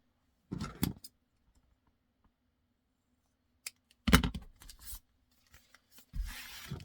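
Scissors snip and crunch through clear plastic bag material in a few short bursts separated by silence, close and fairly quiet, with light rustling at the end.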